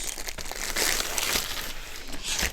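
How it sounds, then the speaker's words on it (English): A plastic bag wrapped around a diamond art painting crinkles and rustles in close, uneven bursts during unboxing, with no voice over it. "They put this in a plastic bag to protect the painting while it's traveling to your house."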